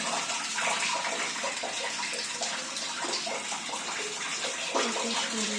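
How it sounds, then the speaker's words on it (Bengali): Water pours into an empty household water reservoir tank with a continuous hollow splashing rush, steady and fairly close, with faint voices now and then beneath it. "তোমাদেরকে দেখাই রিজার্ভারে কি অবস্থা, কোনো জল নেই, কিভাবে জল পড়ছে।"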